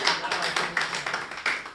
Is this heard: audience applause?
yes